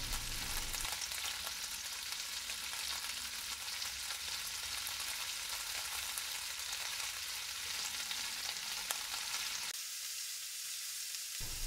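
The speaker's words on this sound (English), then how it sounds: "You can either grill or fry the halloumi cheese. I'm going to fry mine on a medium-high heat." Halloumi cheese fries in a dry pan over medium-high heat, a loud, dense, continuous sizzle close by that drops away near the end, with no voices.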